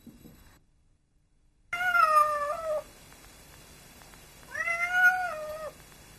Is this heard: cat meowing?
yes